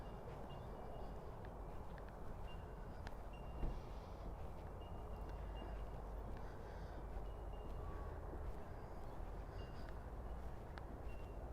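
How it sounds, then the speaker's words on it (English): Steady traffic noise from road vehicles near Marmong Point Marina at daybreak by a lake, a continuous distant rumble filling the background with no talk, a brief louder bump midway. "Unfortunately, we've got a bit of traffic noise as well, so that's competing with it."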